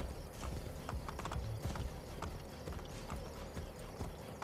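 Horse hooves clip-clopping at a steady trotting rhythm as a rider heads back in Assassin's Creed Brotherhood, close and continuous over a dense background rumble.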